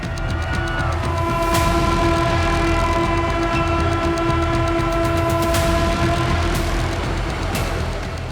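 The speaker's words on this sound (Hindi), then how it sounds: "कटरा से कश्मीर की पहली ट्रेन वंदे भारत को हरी झंडी दिखाई" A Vande Bharat train runs on the Katra to Srinagar line in Kashmir with a loud, steady rolling rumble and a sustained horn, while rhythmic wheel clicks repeat across the whole stretch.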